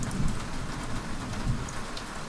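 Heavy rain pours steadily over a deserted village, with low rumbles of thunder rolling beneath the constant hiss; no voices.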